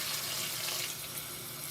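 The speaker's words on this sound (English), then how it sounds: "So we'll fill this bowl with cold water." Cold tap water gushing steadily into a kitchen bowl, a loud continuous splashing rush with no pauses and no voices.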